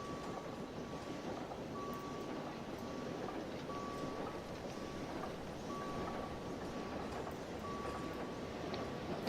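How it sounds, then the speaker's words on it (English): A train arrives in Train Simulator Classic on the Brockenbahn, rumbling steadily with a dense low roar and a repeating high electronic beep tone sounding at regular intervals. "here comes the down train arriving at exactly the same time"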